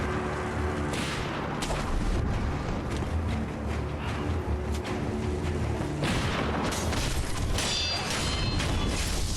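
Gunfire and heavy impacts from an enemy gunner in the video game Sekiro fill a dense, loud stretch of combat sound, with repeated booming shots and clashing effects throughout.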